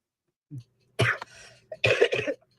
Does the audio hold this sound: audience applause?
no